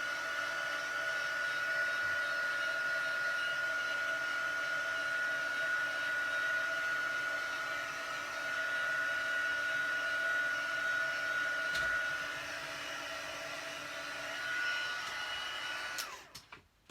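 Hair dryer blowing steadily to dry colour on a handmade card, a continuous close whoosh with a constant tone that runs almost the whole time before cutting off near the end.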